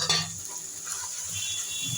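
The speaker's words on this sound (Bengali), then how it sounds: "মশলাটাকে আমি ভালো করে কষিয়ে নেব।" Spices for chicken curry, including turmeric powder, fry and get stirred in hot oil, a soft steady sizzle with faint scraping of a utensil in the pan, close and continuous.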